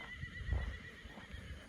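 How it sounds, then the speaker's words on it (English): A horse named Thunder neighs and whinnies on a quiet rural property. A low, rough call swells and then fades over a soft background, along with a few faint shuffling sounds. "Oh, old Thunder, the horse there."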